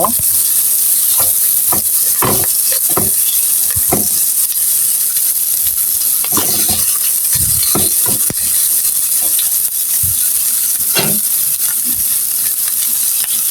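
Onions frying in oil in a pan while being browned for a chicken nugget bhuna, giving a loud, steady sizzle with a bright hiss throughout and scattered stirring scrapes, no voices.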